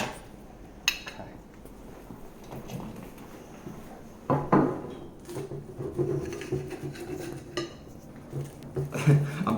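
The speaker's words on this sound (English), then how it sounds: "I'm cutting it and there's like pieces of sock coming out on the knife" A knife saws through cooked food on a plate, with scattered scraping clinks and taps of metal on dishware, irregular and close.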